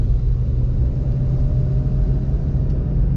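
Corvette C6 ZR1 fitted with a titanium exhaust, cruising with the exhaust valve closed: a subdued, even low rumble from inside the car, steady and unobtrusive with no talking.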